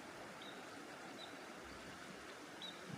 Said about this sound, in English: and just listen to that bubbling of the river